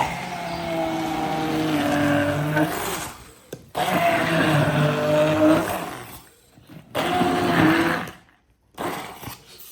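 A blender whirs loudly in several bursts, blending a fish and butter spread, its motor pitch shifting as it churns, with short pauses between runs and a voice talking faintly underneath.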